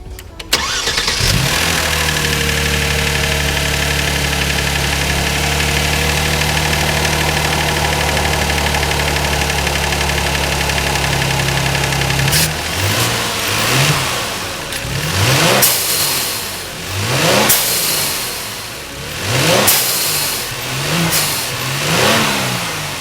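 Kia Stinger GT with its bypass valve removed cranks and fires, settles into a steady loud idle for about ten seconds, then gives a run of sharp throttle blips that rise and fall with audible whooshes.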